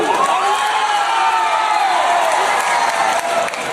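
A large crowd at a political rally with the Prime Minister applauds and cheers, a dense, loud wash of clapping and shouting that holds steady throughout.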